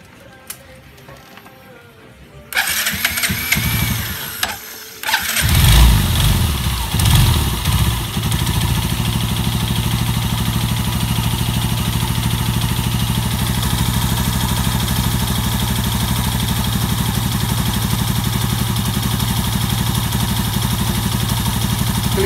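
A Yamaha Jupiter Z motorcycle engine with a fault that keeps oil from reaching the cylinder head starts up after a quiet moment, catches with a couple of bursts, then settles into a steady, loud, rough-sounding idle with no talking.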